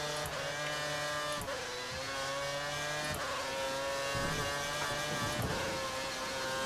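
Formula 1 race cars in the video game F1 2013 scream along a track, high engine whine rising through repeated gear shifts with brief dips between them, loud and continuous with several cars layered together.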